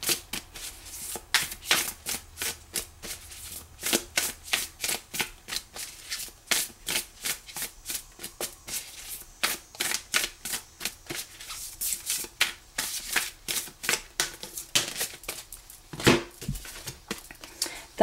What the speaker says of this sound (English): Just give them a good shuffle.